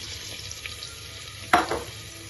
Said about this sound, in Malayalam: വെളിച്ചെണ്ണ ഒഴിച്ചു കൊടുത്തേ അതിൻ്റെ അകത്തോട്ട് ഒരു വലിയ സവോള അരിഞ്ഞിട്ട് കൊടുക്കാം